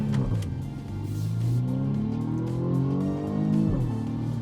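A 2020 BMW M235i Gran Coupe in sport mode accelerates hard, its engine revving up through rising gears with a brief dip at a shift, loud and close with no talking.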